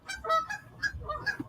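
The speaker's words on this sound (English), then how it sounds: "There's animals in the background? Yes, they are. There's geese." Geese honking outdoors on a tree-lined street, a quick run of five or six nasal honks at moderate distance, clear over a quiet background with no talk.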